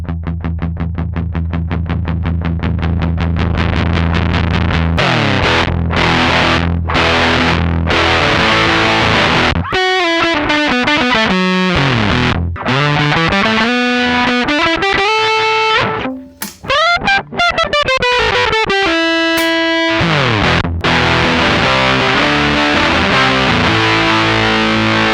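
Electric guitar played through a BOSS FZ-1W fuzz pedal with the fuzz gain turned up, giving loud, thick, saturated riffs and sustained chords that run continuously with brief gaps.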